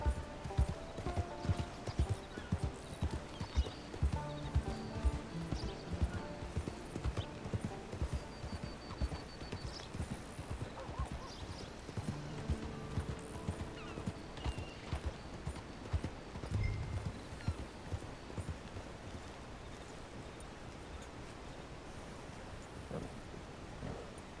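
Horse hooves clip-clop steadily in the Red Dead Redemption Online video game, a close, even rhythm with an occasional whinny over a stormy backdrop of rain and distant thunder, fading slightly toward the end.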